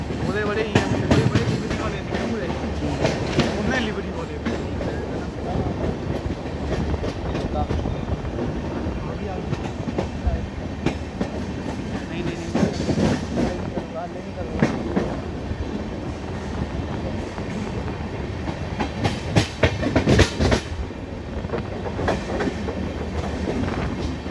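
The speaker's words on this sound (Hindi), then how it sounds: "तो एंजॉय कीजिए कुरुक्षेत्र जंक्शन से अपनी शान पंजाब एक्सप्रेस का डिपार्चर।" An Indian Railways Shan-e-Punjab Express hauled by a diesel locomotive departs Kurukshetra Junction, with a continuous rumbling roll and clattering wheels over the track, a few sharper rattles, and voices in the background.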